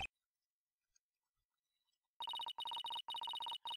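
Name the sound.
smartphone ringtone playing Starlight, Ace Attorney video game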